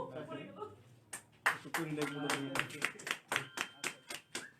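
An audience at a cultural evening and birthday celebration claps together in a steady rhythm, the claps loud and evenly spaced after a short stretch of someone talking.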